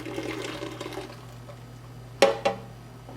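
Yeast and water pour into a mixer bowl fitted with a bread kneading paddle, a running liquid splash over a steady appliance hum, followed by two sharp clinks near the end.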